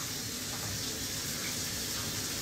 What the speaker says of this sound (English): wash your damn hands.